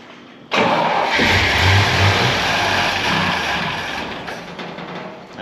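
An old engine cranks and catches abruptly, then runs loud and rough for several seconds with a steady roar that eases slightly toward the end, and no talking.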